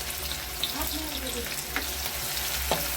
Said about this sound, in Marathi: आणि आता आपण हा कांदा टाकून घेऊ.